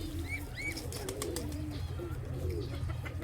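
Racing pigeons on their first day of training settle onto an aviary, with soft coos and short chirps rising over a steady low rumble of wind or background noise.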